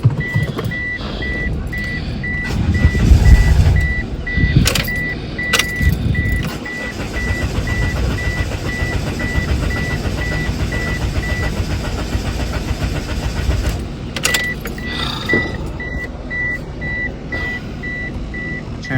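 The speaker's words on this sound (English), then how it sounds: "About to fire her up and see if she stays." A Mitsubishi Eclipse with a 420a engine, left sitting a while with a bad alternator, cranks with a loud low burst and then settles into a steady idling rumble, while a high electronic chime keeps beeping across most of the stretch.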